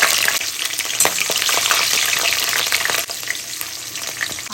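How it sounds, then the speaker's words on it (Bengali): Cumin, fennel, mustard seed, fenugreek and green chilies crackle and sizzle in hot oil, a dense, steady, bright frying hiss with scattered pops and a few stirring scrapes, close and loud, no voices. "তেলটা বেশ গরম হয়ে গিয়েছে, এবার ফোড়নগুলো দেব। জিরা, মৌরি, সরিষা, মেথি, বেশ কিছু কাঁচামরিচ দেব।"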